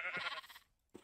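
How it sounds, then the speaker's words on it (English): A sheep in a video game gives one short, close bleat, followed after a brief pause by a fainter, clipped second call. "I need to breed these sheep, realistically, because 4 sheep is not going to be enough"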